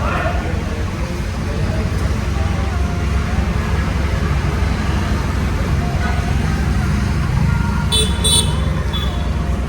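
A 2013 Chevrolet Beat Diesel rolls along a road with a constant engine hum and tire rumble heard from inside. Surrounding traffic fills the background, and short horn toots sound near the end.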